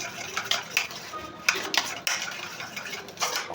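A utensil whisks a conditioner and egg hair mask in a bowl, producing quick close clinks and scraping taps in an irregular rhythm, with no talking.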